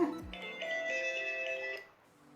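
Mobile phone ringing with an incoming call from a mother, a steady electronic ringtone melody playing for under two seconds at moderate level before cutting off, with no talk over it.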